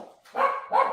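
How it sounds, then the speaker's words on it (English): A dog lets out two sharp barks in quick succession, loud and close to the microphone, with no voices over them. "Don't worry, the dogs are back under control."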